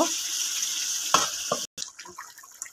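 Beef curry being sautéed in a home kitchen pan, with scrapes of a spoon stirring the meat over a soft steady sizzle, a brief gap, then lighter clinks and stirring sounds.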